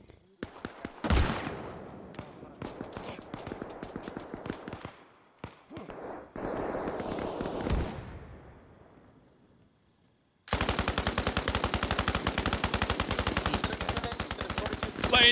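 Rapid suppressive gunfire in Arma Reforger comes as bursts of sharp shots, then a long, loud, steady automatic stream of fire after a brief quiet stretch.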